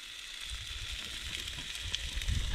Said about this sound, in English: We've got the steaks on, so they are busy sizzling.